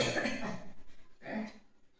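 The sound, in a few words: coughing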